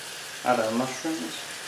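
Mushrooms, chopped onions and garlic frying over medium heat in a pan for lasagne, a soft steady sizzle with a voice talking over it partway through.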